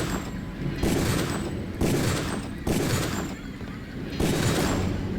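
Gunfire in the video game Deus Ex, loud rapid bursts of shots repeating in roughly four dense volleys with brief lulls between them.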